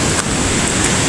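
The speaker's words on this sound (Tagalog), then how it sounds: "Sobrang lakas kasi ng ulan. Kaya sobrang lakas din ng baha." Heavy rain pours beside a flooding river, a dense, loud, continuous wash of water with no voices.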